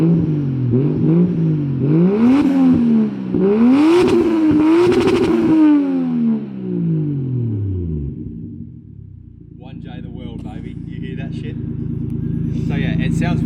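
A Toyota Chaser JZX100 with a 1JZ engine and custom exhaust revs hard several times, rising and falling in pitch up to the limiter, then settles into a rumbling idle with faint clatter, loud and close.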